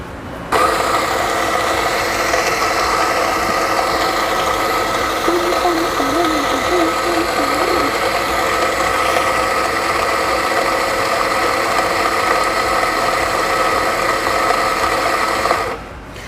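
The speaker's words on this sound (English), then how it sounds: "Start grinding my coffee after adjusting." A burr coffee grinder grinds beans for AeroPress with a steady, loud mechanical whir and gritty crunch, running continuously for about fifteen seconds before cutting off.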